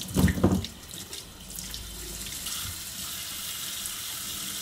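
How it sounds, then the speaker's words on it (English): A kitchen tap runs steadily into a sink while celery is rinsed under cool water, with a brief splashing clatter at the start before a constant hiss of flowing water. "I'm just gonna turn my pipe on and wash it in some cool water"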